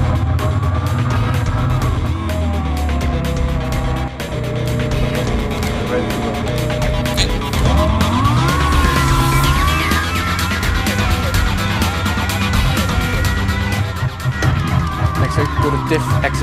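A Williams Formula 1 race car engine runs with a sustained, loud, buzzing drone and shifting pitch throughout, accompanied by radio-style talk over the top.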